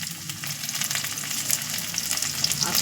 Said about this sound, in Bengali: মশলাটা ভেজে করলে সুন্দর হবে, তাই ভাজছি শুরু করছি।